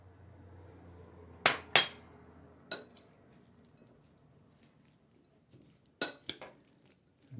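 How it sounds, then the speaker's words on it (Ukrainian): A carrot-leaf and rabbit salad is tossed in a bowl, giving a few sharp clinks of utensil against the bowl in two short clusters, separated by quiet stretches, close and fairly crisp. "Знову перемішуємо. Додаємо сюди нашого кролика порізаного."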